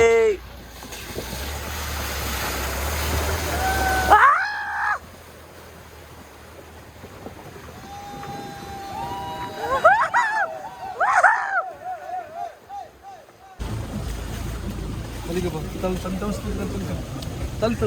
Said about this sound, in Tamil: இப்போ தார் இந்த ஃபுல் தண்ணியை கிராஸ் பண்ணும்போது